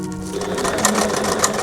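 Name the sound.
sewing machine stitching forward and backward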